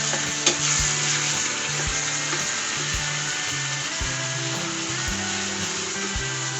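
Beef with bird's eye chilies stir-frying in a hot pan for a numbing chili sauce dish, a steady loud sizzle with repeated scraping and stirring knocks of the utensil against the pan throughout.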